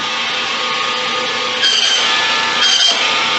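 A saw cuts steadily through wood with a continuous rasping hiss, the strokes growing louder and coarser near the middle and end.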